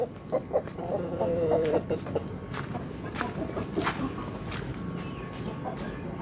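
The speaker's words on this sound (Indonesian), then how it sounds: "ayam yang sedang merayu ya" Chickens cluck and chatter close by near a brooding hen in a backyard flock, a run of soft repeated clucks followed by scattered calls and rustling.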